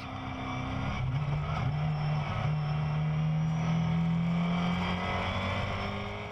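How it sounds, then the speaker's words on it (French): Onboard the Bursac Racing 372 two-seater race car at the start of a Benelux Open Races round, the engine drones loudly and steadily, its pitch rising and dipping under acceleration with no voices. "Francis Punus vous emmène d'ailleurs à bord pour le départ."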